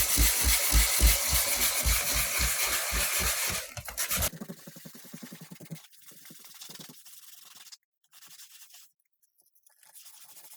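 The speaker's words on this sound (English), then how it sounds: "sand with 80 grit sandpaper" Hand sanding of a cracked plastic paddleboard with 80 grit sandpaper: fast, rhythmic, loud rasping strokes for about four seconds, then quieter, sparser scrapes trailing off into near silence.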